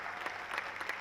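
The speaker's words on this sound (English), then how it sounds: "Can we have a louder round of applause for them?" Audience applause for dignitaries at a mining and metallurgy MoU signing in Odisha, a fairly quiet, even patter of many hands with a few sharper claps standing out.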